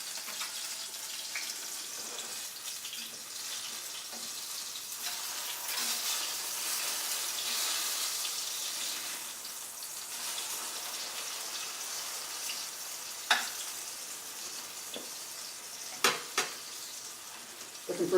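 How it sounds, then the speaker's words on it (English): Pancakes sizzle in a hot pan, giving a steady, close frying hiss that swells and eases over the length, broken late on by a few sharp clinks and taps of a utensil against the pan, with no talking. "Got those cooking, won't take long."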